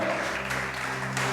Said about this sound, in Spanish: Dale ese aplauso grande a nuestro amado Rey